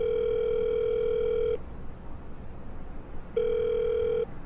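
A telephone rings with an electronic tone, one long steady burst of about a second and a half, a pause, then a shorter second burst, clear and close with no talking.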